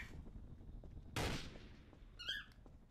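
A single sharp gunshot cracks out in the Garry's Mod Trouble in Terrorist Town game, decaying quickly, followed by a short electronic chirp, with quiet background noise and no speech.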